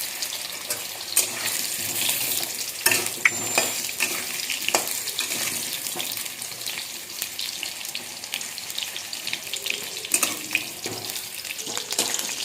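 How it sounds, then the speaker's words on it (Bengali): Potatoes frying in oil in a kadai, browning for a home-style chicken kosha, with a steady broadband sizzle broken by scattered clicks and scraping stirs at close range. "আলুগুলো একটু লাল লাল করে ভেজে নেব"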